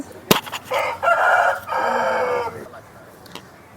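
A Pattadai rooster at a Vijayawada rooster market crows once, loud and close, after a sharp knock, with clucks and market noise trailing off.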